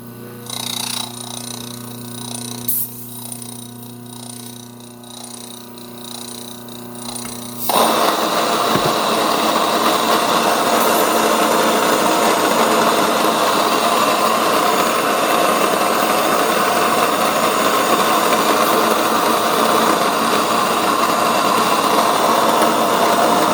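A Mockmill grain mill runs with its stones touching, first a quieter mechanical hum, then a louder, rougher steady grinding drone that carries on to the end.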